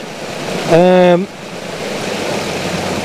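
Steady water falling in a small stream in a pretty landscape scene, a continuous broadband rush heard close, briefly overlapped midway by a short harmonic tone, then running on alone.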